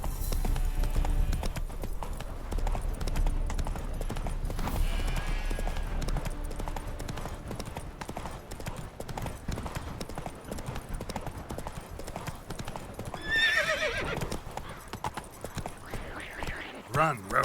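Roach the horse galloping in The Witcher 3, rapid rhythmic hoofbeats running continuously at close range, with talk and other game sounds over them and a brief whinny-like cry later on.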